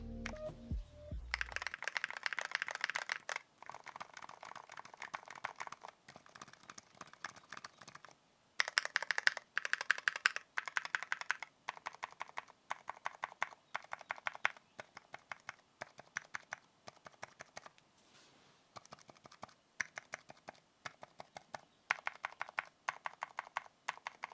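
Muted typing on a keyboard with Kailh Hush or Silent Alpaca V2 silent switches in quick soft bursts, fairly quiet and close, with short pauses between runs of keystrokes.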